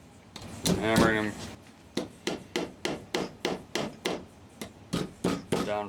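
Small finishing nails are hammered into a wooden picture frame: about a dozen close, sharp taps in a steady rhythm, following a short stretch of someone speaking.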